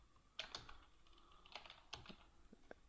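Computer keyboard keys clicked while typing code, a short run of sharp, close taps with uneven rhythm and brief pauses, heard alone with no talking.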